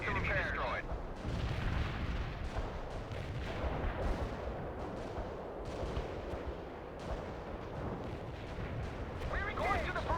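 Artillery fire mission in World in Conflict, the Soviet Assault 'Last Stand' mission: dense, continuous heavy booms and rumbling explosions pound without a break for the whole stretch, with voices faintly mixed in.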